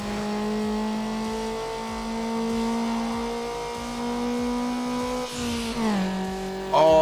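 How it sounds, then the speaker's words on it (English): Mazda Miata engine in the Need for Speed Underground racing game holding a steady harmonic drone, then shifting and rising near the end as the echo of a tunnel stretch swells, loud and close throughout. "the echo effect when you go through like a tunnel area as well is super nice"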